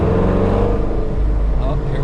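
A cammed 5.7 Dodge Challenger R/T with an automatic transmission idles close by, a deep, steady, choppy rumble that holds through the whole moment.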